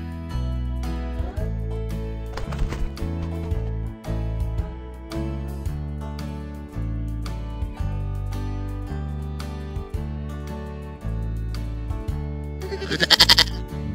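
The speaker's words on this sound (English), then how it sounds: "Goat." A goat bleats over upbeat children's music, with one wavering bleat early on and a louder, clearer bleat near the end above the steady backing tune.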